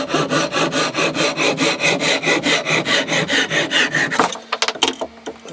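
A handsaw cuts through the end of a wooden trowel handle in quick, even back-and-forth strokes, close and clear, before the sawing stops and a few light knocks and clatters follow.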